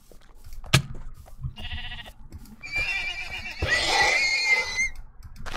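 A horse neighs in the Minecraft modpack Enigmatica 2 Expert, a whinnying call with wavering pitch after a short thump, among game ambience with animals spawning nearby.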